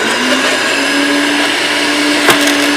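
A Sun Joe electric wood chipper shreds a thick dry Mexican sunflower stalk, a loud steady whirring grind with a faint hum and a sharp crack or snap near the end.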